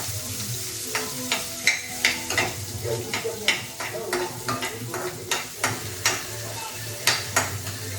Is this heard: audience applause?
no